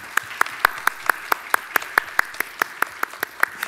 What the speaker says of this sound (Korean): 우리 다 박수로 한번 환영하겠습니다